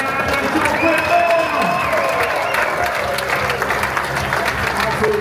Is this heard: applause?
yes